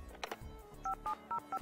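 A telephone in The Sims 2 video game dials a number, giving four short evenly spaced touch-tone beeps after some brief soft clatter, clear and close with no talking.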